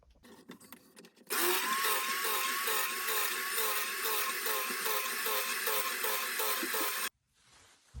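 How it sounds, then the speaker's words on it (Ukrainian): A loud, steady electric knife motor buzzes for several seconds with a wavering whine, cutting fabric into strips close by, then stops abruptly. "електроножом нарізаю і десь до сантиметра"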